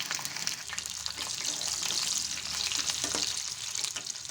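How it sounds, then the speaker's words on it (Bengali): Oil sizzles and crackles steadily around frying potatoes, a dense hiss with small pops throughout and no talking. "আলুগুলো ভাজা বসিয়েছি এগুলো একটু ভালো করে ভেজে তুলে রাখবো"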